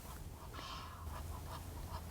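Egyptian geese calling at a game count, a few harsh honking notes repeating at moderate distance over steady low background rumble.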